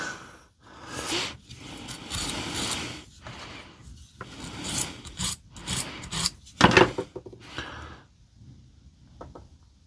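Corroded battery contacts inside a DeWalt DW087 laser level are scrubbed clean, giving close, scratchy rubbing and rasping strokes in irregular bursts, separated by short pauses, with no talk.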